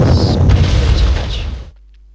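Heavy artillery fire in the World War II strategy game Panzer Corps, a loud close booming blast that rumbles and decays for over a second before cutting to silence.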